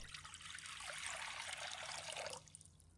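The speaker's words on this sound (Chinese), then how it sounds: "首先准备砂锅， 倒入适量的清水" Water poured from above into a clay pot, a steady splashing trickle for about two seconds before the stream stops and a faint drip lingers.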